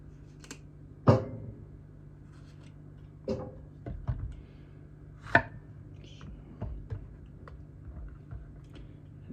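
A Sukenari Hap40 kiritsuki knife chops yellow squash on a board, giving a handful of sharp, separate knife strikes spaced apart and heard close up in a quiet kitchen.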